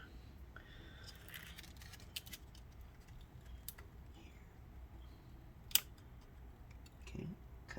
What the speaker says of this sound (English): I'm gonna use the fingernail cutter and try and cut them off.